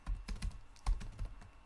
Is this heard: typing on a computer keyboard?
yes